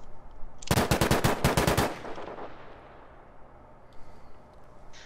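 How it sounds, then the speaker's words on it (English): Rapid burst of about ten loud, close gunshots from a sniper rifle in the video game Battlefield V at a shooting range, fired in quick succession over about a second, then a fading echo and quiet background. "Yeah, I think that's a sniper rifle."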